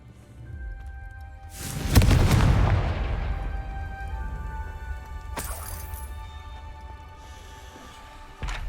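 Confringo fire spell cast in the Hogwarts Legacy video game, a loud booming blast that bursts out and trails off into a long rumbling decay, followed by a second sharper crack a few seconds later over a low game ambience.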